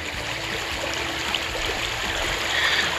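Stream water rushes steadily over a river ford crossing on the Appalachian Trail, where the bridge has been demolished. The wash is continuous and fairly close, with no voices.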